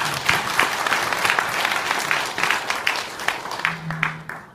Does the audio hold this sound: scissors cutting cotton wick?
no